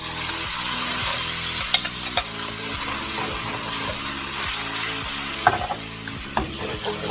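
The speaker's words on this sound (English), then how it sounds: "And now we're going to add the sauce and the vegetables." Mongolian beef sauce and vegetables sizzle hard in hot oil in a pan, a steady close frying hiss broken by rhythmic stirring scrapes and occasional clacks of the utensil, with nobody speaking.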